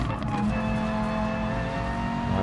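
Race car engine in the GT Sport racing game, held at a loud, steady high-revving roar near the red line with dense layered harmonics, close and continuous without a break.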